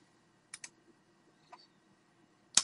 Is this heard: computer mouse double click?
yes